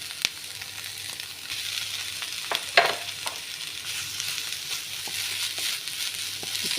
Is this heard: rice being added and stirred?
yes